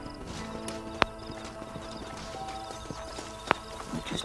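Horse hooves clip-clop in the Red Dead Redemption video game, a steady, fairly close clopping rhythm with a couple of sharp clicks and a brief whinny-like sound, with no talking.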